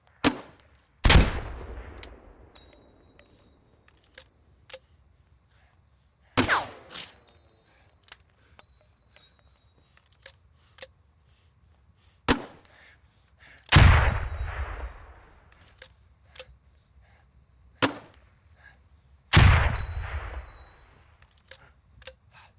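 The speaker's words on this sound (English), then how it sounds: "Grenadiers in your squad carry a grenade launcher slung under their primary weapon. These fire 40mm grenades" 40mm underslung grenade launcher firing in the Squad video game: loud single launches followed by echoing explosions, about five separate shots spaced several seconds apart with metallic reload clinks between them, no talking.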